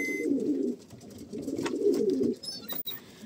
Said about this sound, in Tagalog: dito ko nilalagay yung mga barako natin na kalapate